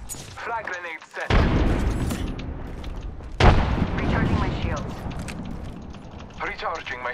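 Gunfire and explosive booms erupt in a battle royale video game, two heavy blasts followed by rumbling, with a voice talking over the fight throughout.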